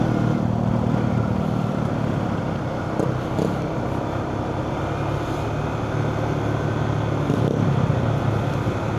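A motorcycle engine revs and drones steadily at close range throughout a short ride past a fast-flowing river in flood-hit Candaba, Pampanga, with the rumble holding constant and no talk over it.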